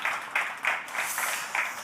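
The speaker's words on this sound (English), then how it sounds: "please let's give a round of applause to Bogdan" Audience applause at the Black Sea ClimAccelerator Demo Day 2021: steady, fairly close clapping from a crowd with a few louder swells, continuing without pause throughout.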